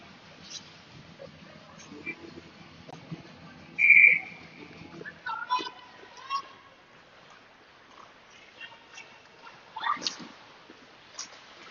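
A referee's whistle in a youth ice hockey game between U16 and U14 teams, sounding as one sharp, fairly loud blast and then a fainter one later, under an announcer's play-by-play and rink noise.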